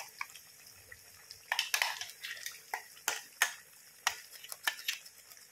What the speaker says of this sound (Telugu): అది ఉల్లిగడ్డలు, టమాటాలు అంతా ఆ మిశ్రమం వేసి బాగా ఫ్రై కావాలి